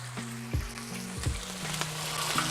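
Sausage sizzles in hot bacon grease, a close, steady crackle broken by a few clanks from a spatula chopping it in the pan.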